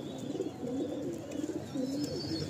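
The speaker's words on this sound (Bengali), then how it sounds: "এগুলো আমার ঘরের অনেক পুরাতন পায়রা" Old pigeons of a common Kalsira pair cooing in a home loft, steady low murmuring coos repeating throughout at close range, with no one talking.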